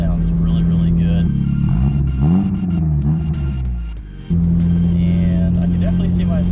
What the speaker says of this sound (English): The exhaust sounds really, really good.